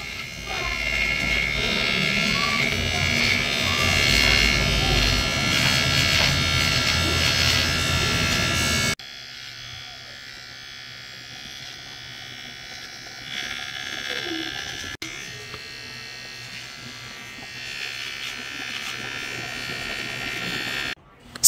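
Close to the listener, a small electric trimmer buzzes steadily while trimming a dog's paws, then the sound drops to a softer, quieter hum.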